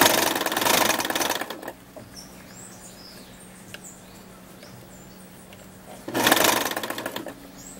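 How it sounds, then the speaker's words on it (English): A sewing machine stitches in a zipper in two short close bursts of rapid whirring at the start and end, separated by a quieter pause with faint small background sounds. "The machine is actually going to guide that stitch"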